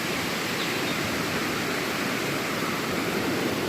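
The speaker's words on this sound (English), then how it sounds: "I could really hear the creek good here" A creek at Smokemont campsite in Great Smoky Mountains National Park rushes in a steady, broadband wash of flowing water, close and constant with no pauses.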